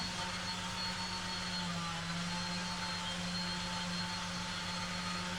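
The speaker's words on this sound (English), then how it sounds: "So I've got the vacuum running, trying to pull the stuff out with the sander" A vacuum cleaner runs steadily during a DIY guitar refinishing job, pulling dust from a sander; a loud, constant whining drone with a low hum underneath, heard close and alone without talking.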